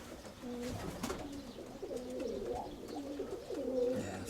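Pigeons coo softly at a dovecote, repeated low throaty calls rolling one after another, fairly faint and close by.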